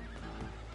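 A horse in the Red Dead Redemption video game gives a short, loud whinny amid dense game sound effects.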